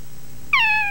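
A cat gives one clear, loud meow in a 1992 Chilean TV commercial for glass containers, short and close.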